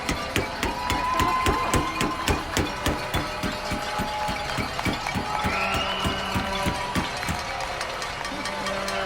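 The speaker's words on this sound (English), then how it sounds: "Vaughn, I'm banging on our car." People banging on cars in a street at night, a loud, steady rhythm of hard metallic thumps with a crowd in the background.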